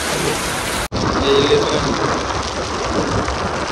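Rain and wind at the seashore, a dense steady hiss of heavy rainfall with gusty wind, close and loud throughout apart from a brief cut.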